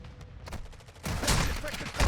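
Rapid gunfire from the video game Modern Warfare 2, fired at an opponent holding a riot shield, in a dense, steady crackle that swells louder near the end, with game noise around it.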